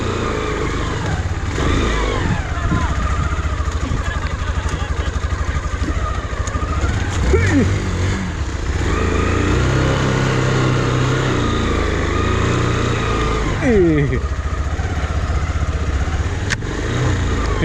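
A Hero Karizma motorcycle rides along a forest road, its engine droning loudly and steadily with rising and falling revs and occasional gear-change surges, heard close throughout.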